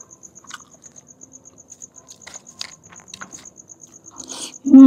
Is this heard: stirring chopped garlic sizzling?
no